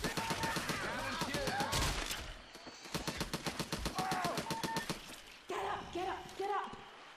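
Rapid automatic gunfire from a Left 4 Dead 2 zombie shootout, dense bursts of repeated shots with brief pauses, close and loud, while players talk over it.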